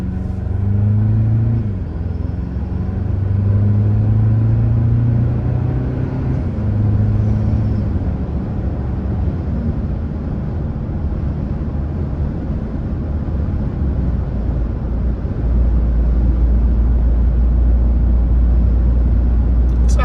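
Wind roars and buffets inside a Toyota Tacoma cab as it drives straight into a strong wind, with a loud, steady low rumble of road and engine noise running through the whole stretch and no talking.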